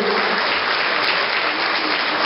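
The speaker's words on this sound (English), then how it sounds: "I want everybody to give a round of applause for Mr. Edwards." A crowd gives a round of applause for Mr. Edwards at a promoters' coalition gathering, steady dense clapping filling the whole stretch at a constant, loud level with no talking over it.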